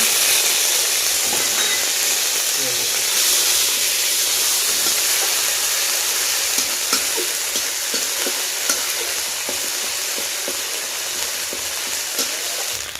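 Cumin seeds, green chillies and ginger paste crackle and sizzle in hot oil for a vegetarian aloo chop, making a loud continuous hiss with scattered sharp pops close by.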